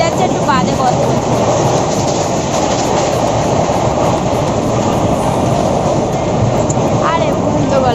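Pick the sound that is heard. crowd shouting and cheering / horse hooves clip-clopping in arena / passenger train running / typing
passenger train running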